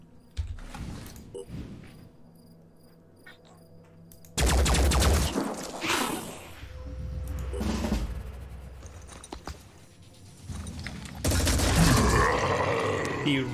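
Artillery pounds away in the tactical strategy game Phoenix Point: two long, heavy bursts of rolling explosions and rapid blasts, separated by quieter mechanical clatter and a pained grunt, loud and booming with no talking.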